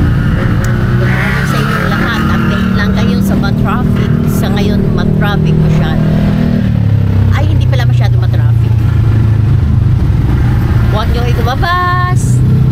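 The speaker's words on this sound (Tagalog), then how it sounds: "Sa ngayon, traffic masyado." Heavy road traffic heard up close, a loud continuous roar of engines and vehicles passing with rumbling low drones and occasional horn-like tones, a voice talking underneath.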